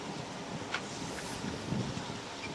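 Wind rushes steadily across a racing yacht in cold conditions near Cape Horn during the Volvo Ocean Race 2014-15, a faint, continuous broadband roar with no voices.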